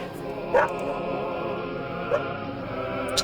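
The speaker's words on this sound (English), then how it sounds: "You can tell why the dog is barking." Three short, spaced dog barks come from the video game Voices of the Void, moderately loud against a constant humming backdrop.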